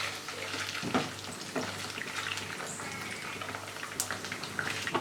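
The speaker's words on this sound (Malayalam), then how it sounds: "ഇനി ബാക്കിയുള്ള ചിക്കൻ നമുക്ക് ഇതുപോലെ തന്നെ വറുത്തെടുക്കാം" Chicken pieces fry in hot oil with a soft, steady sizzle and crackle, punctuated by a few louder pops and stirring clinks, no voices over it.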